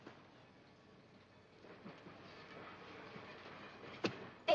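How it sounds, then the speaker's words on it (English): Distant train rolling slowly in reverse on a neighboring track, a faint steady rumble with soft clicks that swell near the end into two sharper metallic clanks, with no one talking. "That's a train backing in on the other track."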